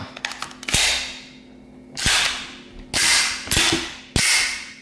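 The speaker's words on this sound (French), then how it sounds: "je vais mettre le chargeur" Metallic clacks and slides from a Beretta 92 S 9x19 mm pistol as the magazine is inserted and the action is worked, several sharp loud snaps spaced apart, close up with no talk.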